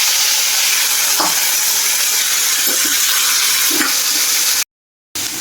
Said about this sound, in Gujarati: હળદર થોડીક નાખશું થોડીક હિંગ નાખી અને રીંગણ બટેકા આપણે વઘાર કરી લઈશું